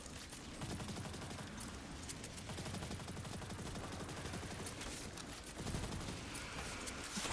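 Continuous faint rattle of enemy gunfire in a video game, a steady distant fusillade of rapid shots running throughout with a slight swell near the end.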